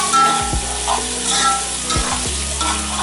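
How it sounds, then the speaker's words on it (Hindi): Garlic and ginger frying in a pan crackle and sizzle up close while a spoon stirs and scrapes, with a couple of distinct knocks against the pan; a continuous hiss runs underneath and nobody speaks. "इसको मैंने हल्का सा लहसुन अदरक को भी इसके साथ भून लूँगी"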